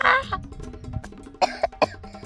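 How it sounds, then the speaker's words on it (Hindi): A handful of short, harsh coughs close by, one burst at the start and a quicker cluster later, with faint background noise between them. "मुझे खांसी आ रहा है"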